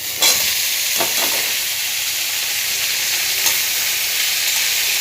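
Vegetables sizzle steadily in a hot pan with slit green chillies, with a few scraping stirs breaking through the constant frying hiss.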